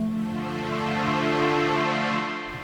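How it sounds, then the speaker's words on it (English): A steady, smooth synthesizer sine wave tone holds a sustained pitch with soft overtones, playing alone at an even loudness before easing slightly at the end. "So I have here more like a sine wave"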